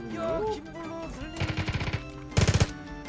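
Two short bursts of rapid automatic gunfire in the PUBG battle game, each a quick run of evenly spaced shots, the second louder and nearer, with game music and sounds underneath.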